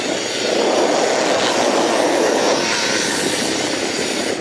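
A Milwaukee rubber power broom spinning through wet snow with the debris guard removed, producing a loud, steady, close whooshing roar that runs without a break from start to finish, with no voices.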